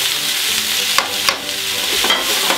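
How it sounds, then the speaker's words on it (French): Bell pepper, onion and garlic sweating in a pan for a beef or veal tongue dish, a loud close sizzle broken by several sharp scraping stirs of a utensil, no talking. "Oignon tourne. On va les faire suer jusqu'à une légère coloration."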